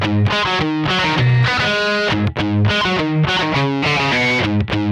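Heavily distorted electric guitar chords heard through an S/PDIF digital audio output, loud and close, played in rhythmic chopped bursts with short pauses and no talking.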